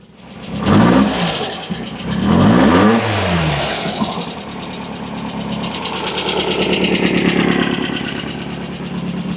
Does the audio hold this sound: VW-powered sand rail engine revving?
yes